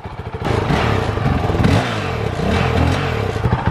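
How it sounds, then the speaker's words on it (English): Honda CRF450L motorcycle with a Yoshimura RS4 exhaust revs sharply a couple of times from idle, the loud, close engine rising and falling with rattly mechanical clatter. "Give you a couple revs."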